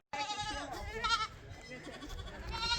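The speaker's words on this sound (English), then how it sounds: "Goats in the road." Goats on a road bleat loudly and close by, several wavering cries overlapping and following one another in quick succession, with no talk.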